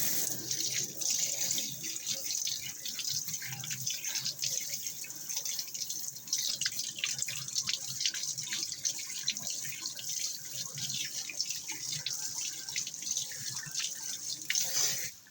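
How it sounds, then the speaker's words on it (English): Water runs steadily from a sink tap while hands are washed under it, a constant close splashing hiss with small drips and shifts in the flow, no talking. "let me wash my hands"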